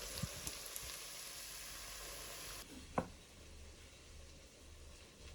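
Onions caramelizing in a pot for French onion soup give a steady, soft sizzle throughout, broken by a single sharp clink or tap near the middle.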